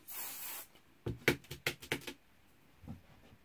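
A short hiss of spray applied onto textiles for a night sky piece opens the sequence, followed by a series of quick clicks and taps, close and quiet.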